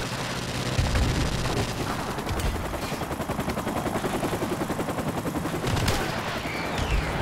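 Loud, close machine-gun bursts in Call of Duty: Modern Warfare Remastered multiplayer, rapid rattling shots over a roar of battle noise, with a few heavier bangs mixed in.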